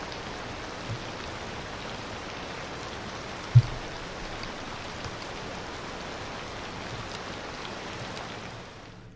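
Steady rain in Cities Skylines II, a continuous even hiss of falling water with a single brief thump partway through and no talking.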